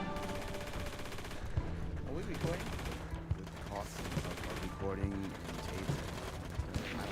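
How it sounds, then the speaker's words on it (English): Gunfire in the World War II shooter Hell Let Loose: bursts of rifle and machine-gun fire crack out repeatedly, some near and some distant, over a continuous rumble of battlefield noise and vehicle engines. "Gunfire and some spawn trucks over here"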